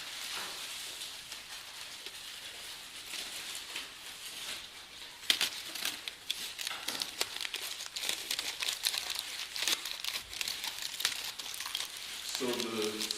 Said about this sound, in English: I'm going to add in a little bit more to try to create a head. So crumple up,